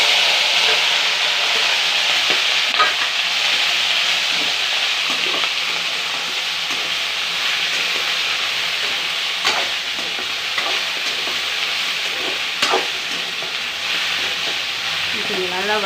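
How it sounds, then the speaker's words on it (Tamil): Okra sautés in a pan with a loud, steady sizzle and hiss, broken by occasional scrapes of a spatula stirring close up, with no speech. "கொஞ்சம் நல்லா வதங்கிட்டோம்."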